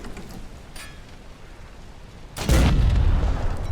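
A torpedo strikes a ship at the waterline in the Wolfpack submarine game: quiet background rumble gives way to a sudden heavy boom that swells into a loud, sustained roaring rumble.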